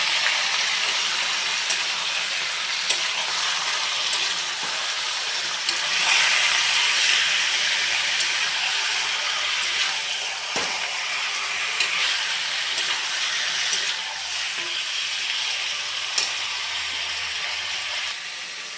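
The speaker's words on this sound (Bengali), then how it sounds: "মাংসগুলো দিয়ে এবার ভালো করে নাড়াচাড়া করে নিতে হবে" Chicken pieces being stirred in a hot pan for dhaniya chicken, with a steady loud sizzle and hiss throughout and occasional faint scrapes of the spoon, no voices.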